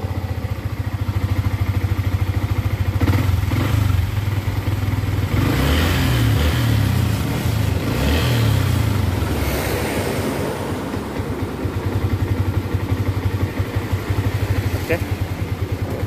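A Yamaha MX King motorcycle engine idles steadily nearby, a continuous low throbbing putter that holds for the whole stretch with slight fluctuations.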